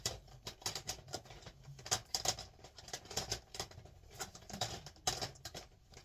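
DVD film cases are shuffled and rapidly clacked against one another up close, making a continuous run of light plastic taps and rattles.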